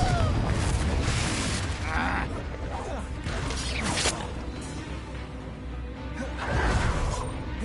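A Confringo fire spell bursts during a fight in Hogwarts Legacy, with booming blasts and whooshes layered over dense, continuous combat clatter and background voices.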